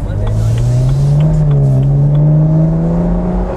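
A BMW 335i convertible with a 225-kilowatt engine accelerating, a loud steady engine note rising smoothly in pitch, heard close from inside the car, with no talking.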